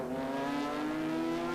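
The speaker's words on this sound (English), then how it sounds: "that's Esteban Beckman in that beautiful black Ferrari 296" A black Ferrari 296 race car howls past on a road racing circuit, a brief, loud, steady engine tone with a bright harmonic whine.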